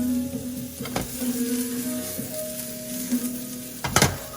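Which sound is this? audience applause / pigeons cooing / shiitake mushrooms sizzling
shiitake mushrooms sizzling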